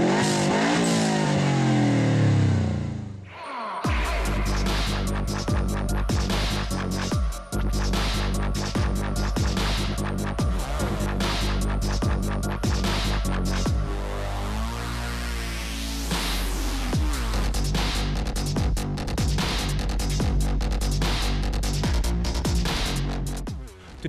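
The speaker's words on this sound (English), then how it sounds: "Today we are down at Killarney racetrack with the Grassroots drifting crew." Drift cars at Killarney racetrack with a grassroots drifting crew, engines revving hard and bouncing off the limiter, loud and close, with tyre squeal and surging throttle blips throughout after a brief quieter opening.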